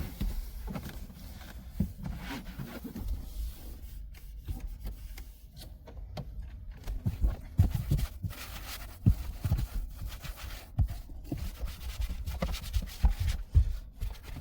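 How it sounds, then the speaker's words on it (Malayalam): A cloth wipes dust off a car in soft, uneven rubbing strokes with occasional light knocks, quiet and close, with no talking. "അപ്പോൾ അത് ഫസ്റ്റ് നന്നായിട്ടൊന്ന് തുടച്ച് കഴിഞ്ഞാൽ റെഡിയാവും"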